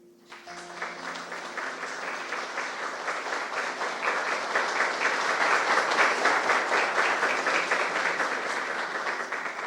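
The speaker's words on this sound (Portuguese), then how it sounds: "eu os aplaudo igualmente" Sustained crowd applause that starts abruptly and swells steadily, many hands clapping densely together, with a brief faint tone at the very beginning.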